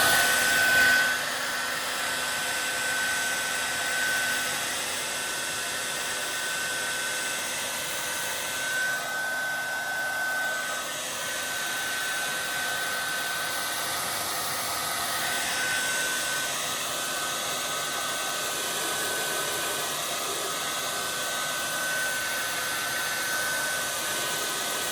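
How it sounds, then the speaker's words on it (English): A hair dryer blows steadily on a watercolour portrait painting for about twenty-five seconds, a continuous loud whooshing hum with slight shifts in pitch as it is moved, no talking over it. "I'm going to do 2 seconds of hair drying"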